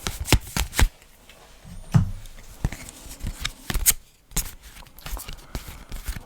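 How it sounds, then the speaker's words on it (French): Cards being drawn and handled during a solo game of The Thing board game: a series of quick papery flicks and shuffling slides, fairly close and clear, with no talking over them. "Il va piocher ses 3 cartes."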